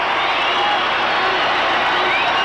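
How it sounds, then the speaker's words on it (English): A wrestling arena crowd cheering wildly, with a dense, steady roar of many voices and scattered clapping throughout. "the crowd is going wild"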